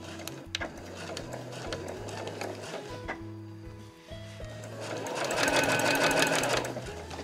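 A sewing machine stitches Marimekko cotton fabric for a lined drawstring tote bag, a close rhythmic whir that stops and restarts, then runs steady and louder toward the end.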